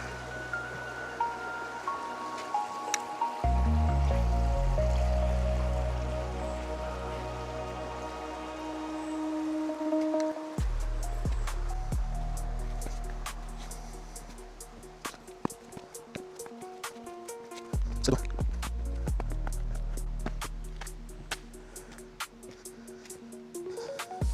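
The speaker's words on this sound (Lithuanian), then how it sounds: "Kažkoks upelis teka." Steady watery rush of a small stream, continuous and fairly close, with scattered drips and a low rumble, no talking, on a hiking trail near Vilnius.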